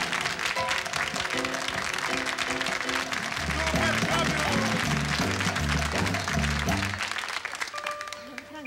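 A studio audience on a Saturday TV variety show applauds loudly and continuously, mixed with cheering, music and a voice calling out over it, fading slightly near the end.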